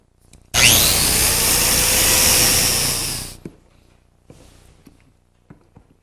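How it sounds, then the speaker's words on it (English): Plate joiner set at 12 degrees cutting a biscuit slot into the edge of a wooden board, one loud sustained whine of about three seconds that winds down, followed by faint handling knocks. "For the corresponding slots, which are cut in the adjacent board, I need to set the plate joiner at 12 degrees,"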